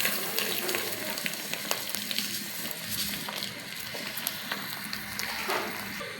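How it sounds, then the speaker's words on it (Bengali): Rice frying with beef in a pot for beef bhuna khichuri, a continuous close sizzle with scattered crackling pops and occasional stirring scrapes. "এবার আমি চাউলগুলো দিয়ে ভালোভাবে আরও 4-5 মিনিট ভেজে নেব চাউল দিয়ে।"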